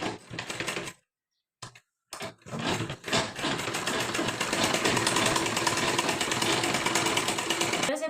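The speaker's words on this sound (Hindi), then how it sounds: "पक्की सिलाई लगा लेंगे।" A sewing machine stitches a lahenga blouse in short starts and stops at first, then runs in a long continuous whirring rattle, close and steady, with no voices.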